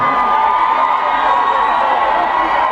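A large festive crowd of over 15,000 at a Zulu music event cheers, whoops and claps in a steady, loud, continuous roar, with children's shouts mixed in.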